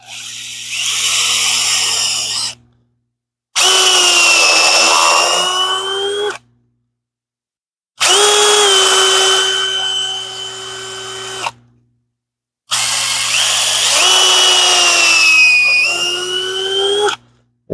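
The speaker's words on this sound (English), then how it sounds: "And we're just drilling through the rubber." A power drill whines loudly in four separate bursts with short silent pauses between, its pitch dipping as the bit bores into the rubber bushing of a car lower control arm, close up.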